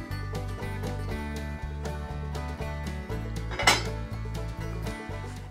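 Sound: broccoli placed into a greased 11 by 7 baking dish

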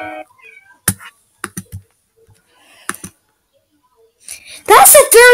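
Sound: cat meowing indoors

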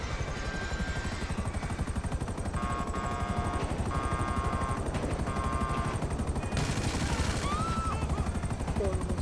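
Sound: helicopter flying in a video game

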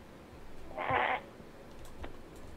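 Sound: pig oinking in Minecraft video game

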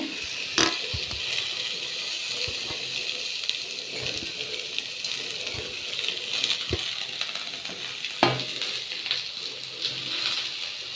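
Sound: frying onion, garlic and curry leaves in oil in pan

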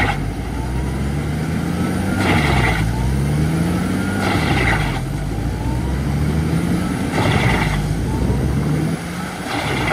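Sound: tractor-driven wood chipper chipping a wet log

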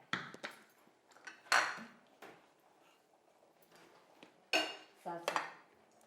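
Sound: pan and utensils being handled

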